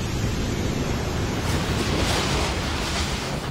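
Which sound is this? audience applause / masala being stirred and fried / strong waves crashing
strong waves crashing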